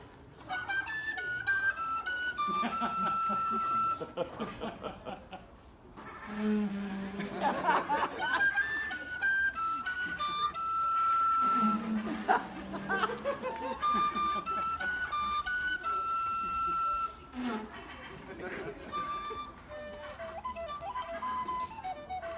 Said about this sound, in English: this is a penny whistle, but I'll have to see what I can do with it